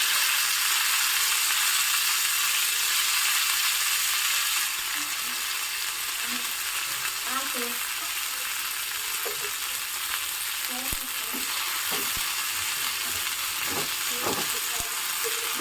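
Chopped fenugreek leaves go into a ghee and cumin tempering, and a loud continuous hiss of frying settles into steady sizzling, broken by scattered scrapes and taps of a stirring spoon.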